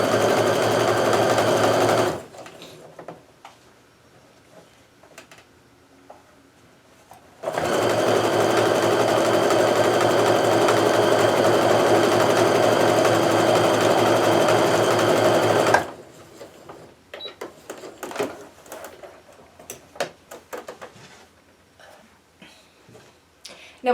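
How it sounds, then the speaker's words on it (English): Sewing machine running in two long sustained bursts, stitching Kaffe Fassett jelly-roll quilt pieces with a quarter-inch seam; steady loud motor whir, then quieter handling noises between and after. "We can sew that together."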